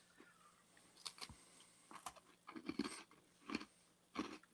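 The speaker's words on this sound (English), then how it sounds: "Oh, that's got a crunch." Crunchy caramel biscuit chewed close up in a quiet room, with a run of crisp bites and crunching, several loud snaps spaced irregularly over a few seconds.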